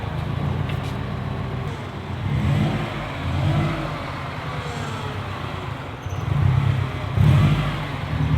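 Widebody Subaru STI with a built engine on its first drive in over a year, steady mid-pitched engine drone with a few swelling revs as the car pulls away, heard from close by with no talk.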